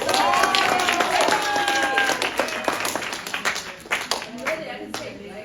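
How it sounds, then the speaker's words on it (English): A small group claps together at a local gathering, a brisk patter of hands fairly close by that thins out toward the end, with voices talking over the clapping. "give yourself a round of applause"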